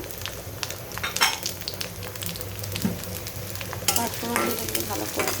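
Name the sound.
frying onions and panch phoron in mustard oil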